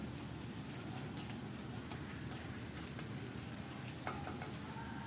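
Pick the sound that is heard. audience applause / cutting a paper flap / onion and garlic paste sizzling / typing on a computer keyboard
onion and garlic paste sizzling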